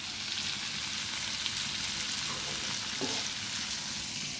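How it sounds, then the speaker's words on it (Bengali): Food fries in mustard oil in a pan with a steady, dense, close sizzle and light crackle that runs on evenly without pause, with no talking over it. "খুব ভালো করে ভাজতে হবে তো রান্নাটা সরিষার তেলে"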